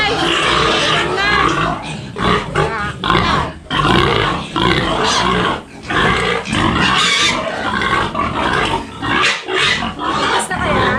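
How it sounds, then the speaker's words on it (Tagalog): Loud, constant grunting and squealing from several non-native farm pigs nearby in rural Occidental Mindoro, overlapping without pause, with people talking over the noise. "Pero hindi yan yung native na baboy."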